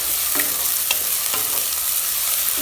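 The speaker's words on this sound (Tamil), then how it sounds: "எப்போவுமே நம்ம வெங்காயம் போட்ட உடனே இஞ்சி பூண்டு பேஸ்ட் போட்டு வதக்குனிங்கன்னா ரொம்ப வந்து பாத்திரத்தில் பிடிக்காது" Chopped onion and ginger garlic paste sautéing in hot oil for a vegetable kurma, a bright close sizzle broken by a few scraping stirs of a spoon against the pan.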